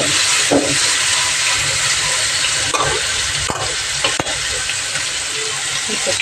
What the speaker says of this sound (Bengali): মাছগুলো ভাজতে হবে।